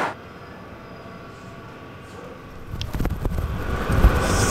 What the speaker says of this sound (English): instead, I'm taking the train to Chur.